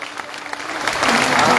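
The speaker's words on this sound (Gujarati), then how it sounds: "નીચે બેઠા બેઠા દરેક ખેડૂતોને નમ્ર વિનંતી કે બેઠા બેઠા આપણે જોરદાર તાળીઓથી વધાવશું" Farmers seated at a protest fasting camp break into applause, the clapping swelling from scattered claps into a dense, loud burst within a couple of seconds.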